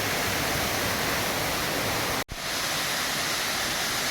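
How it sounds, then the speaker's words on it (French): A small, lively waterfall near the Phong Nha caves in Vietnam roars as a steady, dense hiss of rushing water, briefly cut by a sharp dropout before continuing unchanged. "cette cascade"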